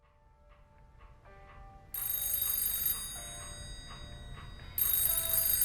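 A telephone rings in a quiet room, with two bright, loud bursts of bell-like ringing, the second cutting in near the end.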